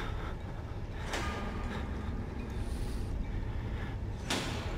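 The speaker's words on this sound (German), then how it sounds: "Und er macht natürlich wieder den Schrank neben uns auf." Cupboard door opened by an enemy in the Outlast horror game, Zellenblock B: a faint wooden creak and scrape close by, with two soft knocks over a low, steady background hum.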